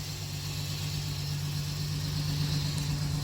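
A Jeep XJ engine runs at a steady idle, a faint, even low hum heard alone with no talking.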